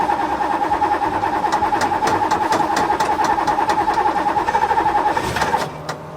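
Ferrari 308 engine catching and running with a steady, loud mid-pitched drone and rapid ticking pulses, dropping off near the end.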